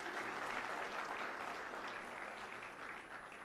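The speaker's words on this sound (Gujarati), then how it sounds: "એમના માટે એકવાર તાળીઓ થઈ જાય" An audience at an AAP political rally in Gujarat applauds Arvind Kejriwal with a dense, sustained crowd clapping that holds steady and then slowly tapers off.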